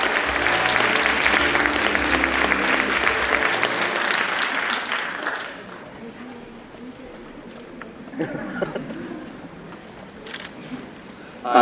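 A lecture audience applauds a Korean author's talk, dense clapping loud for about five seconds, then fading to scattered claps and low room murmur.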